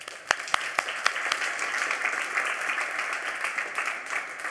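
Applause from an assembly audience at a climate data general assembly, steady broadband clapping with a few sharp individual claps at the start, then a sustained even wash for several seconds.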